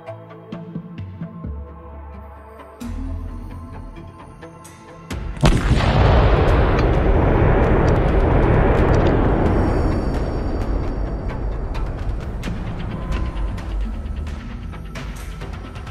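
A tank struck by an FPV drone explodes after burning, a sudden loud blast at about five seconds rolling into a long, heavy roar that stays loud to the end, preceded by quieter low rumbling.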